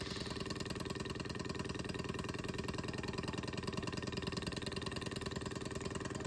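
A small Stirling engine runs at an easy, relaxed pace, giving off a steady, fine-grained mechanical chatter with a soft whirr. It stays constant and fairly quiet throughout, with no talking.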